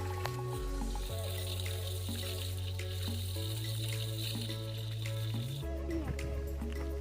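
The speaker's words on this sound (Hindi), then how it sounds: "ये है पहाड़ों के खूबसूरत पनघट, जिनमें कि हमेशा पानी चलता रहता है और कभी भी पानी बंद नहीं होता है।" Spring water flows constantly at a mountain water source, a steady trickling and splashing with a low hum underneath that carries on throughout.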